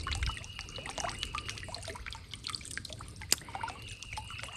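A small solar-powered birdbath fountain trickles water into its bowl, a steady drip and dribble throughout with one brief sharper splash near the end.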